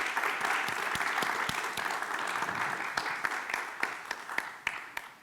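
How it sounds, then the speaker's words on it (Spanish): An audience applauds a comics artist being introduced at a panel on superheroes in comics, a moderate wash of clapping with distinct individual claps standing out, tapering slightly toward the end. "Por favor, un aplauso para Bernardo Fernández"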